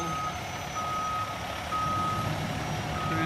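A loaded triaxle dump truck reverses, its backup alarm sounding a steady, evenly spaced beep over the low drone of the engine, fairly close by.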